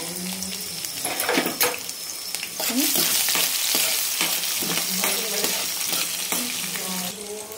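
Lentils, cumin, mustard seeds and onions fry in hot oil, giving a steady loud sizzle with crackles and the clatter of stirring throughout, no voices.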